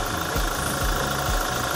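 A Toyota Hilux Conquest engine idling quietly up close, a steady low rumble with soft rhythmic knocking pulses repeating about every half second under broadband hum, no voices.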